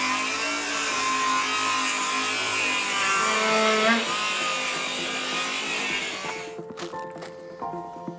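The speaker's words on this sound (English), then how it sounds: "What Chris is doing is just trimming along that line he's marked" A power saw cuts steadily through a timber wall along a marked roof-pitch line on a DIY wooden garage kit, a loud sustained whine that runs for about six seconds, then winds down into clicks and rattles.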